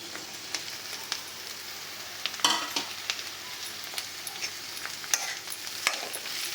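Steady sizzling of capsicum pieces frying in oil, with occasional scraping and stirring clicks from a spatula throughout.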